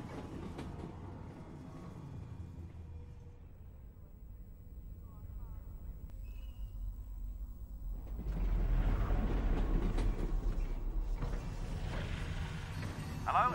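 A train rides along rails in the video game Half-Life: Alyx, a continuous low rumble with faint rhythmic clatter that swells louder toward the end, with voices talking over it.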